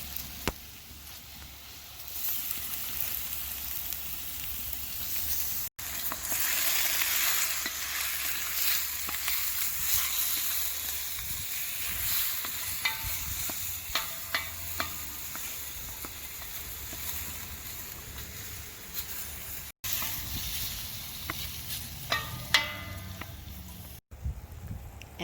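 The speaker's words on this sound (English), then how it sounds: "So now we're gonna add the beef cubes. We're gonna kind of brown it first before we add the rest of the ingredients." Beef cubes browning in a pot for Hungarian goulash at an outdoor summer cookout, a loud continuous sizzle and frying hiss with occasional stirring scrapes, briefly broken by short dropouts.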